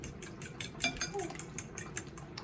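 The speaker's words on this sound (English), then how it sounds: "I'm just going to mix it." Rapid whisking of cinnamon and nutmeg into a French toast egg mixture, quick regular clinks of utensil against bowl, close and fairly soft, with a voice talking faintly over it.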